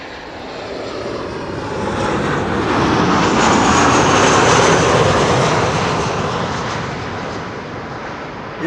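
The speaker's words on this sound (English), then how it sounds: "Charleston C-17A from Dover Air Force Base." Boeing C-17A military transport jet from Dover Air Force Base at Schiphol, a loud broad engine roar that swells to a peak midway and then eases slightly, steady throughout with no voices.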